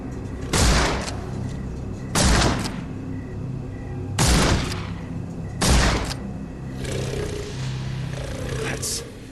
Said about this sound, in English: Holmes, hand me the rifle. I can shoot the ropes holding it.